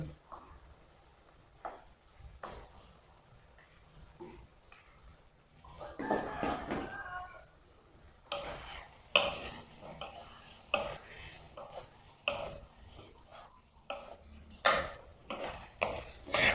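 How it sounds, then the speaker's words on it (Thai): Shrimp with salted egg is stir-fried in a pan, with intermittent scraping strokes and clinks of a utensil against the pan over a faint sizzle, close and fairly quiet. "เมื่อผัดมาจนกุ้งสุกแล้วนะคะ"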